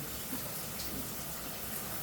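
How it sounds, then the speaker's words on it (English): Water sprays from a shower head, wetting down shower walls and surfaces ahead of cleaning off soap scum, a steady close hiss that runs evenly throughout with no speech. "You just want to wet the surfaces down first."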